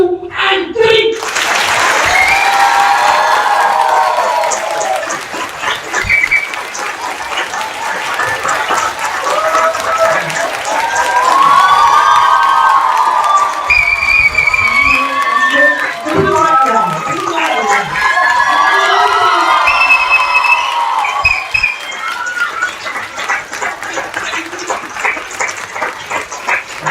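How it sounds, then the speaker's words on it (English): A live audience at a talk at a dental education institute claps loudly and cheers, with whistles cutting through the sustained, dense applause and shouting that fills the whole stretch. "I want you to clap as loudly as possible and whistle for me if you can."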